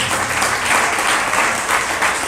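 Audience at a spiritual discourse applauds with steady, loud clapping that fills the space evenly, with no talk over it.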